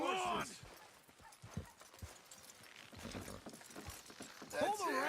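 Hooves clip-clop at an even pace in the video game Red Dead Redemption 2, with a horse whinnying at the start and again near the end, and people talking over it.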